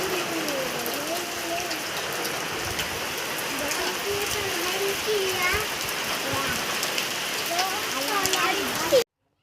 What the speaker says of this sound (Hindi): और बहुत ही बड़ी बड़ी बूंद पड़ रही थी।